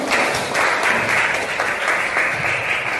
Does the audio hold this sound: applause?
yes